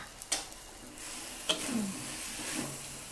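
Thai stir-fried rice noodles being tossed in a pan with spatulas after bean sprouts and chives go in, with a steady sizzle and a few sharp scraping clacks of utensils against the pan.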